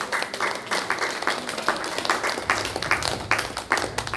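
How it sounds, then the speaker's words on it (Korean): Church congregation at a Korean worship service claps in encouragement for a cell group, loose, uneven hand claps with distinct individual slaps, close and fairly loud across the whole stretch. "우리 다시 한 번 더 격려의 박수"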